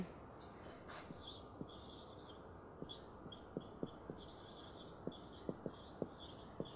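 Chalk or marker writing by hand on a classroom board during an English punctuation lesson, a series of short taps and scratches spaced irregularly, fairly close, with faint high chirping in the background.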